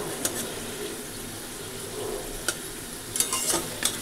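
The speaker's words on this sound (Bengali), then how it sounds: "শুধু মিষ্টি কুমড়া ভাজা উঠিয়ে দিয়ে এই তেলের মধ্যে ফোড়ন দিয়ে দিব" Oil crackles and sizzles steadily in a pan after fried pumpkin is removed, with a few sharper pops and scraping stirs, no voices.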